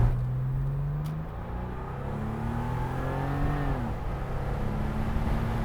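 A Porsche 993 Cabriolet's air-cooled engine drones and revs up through the gears from inside with the top down, with steady road and wind noise around it.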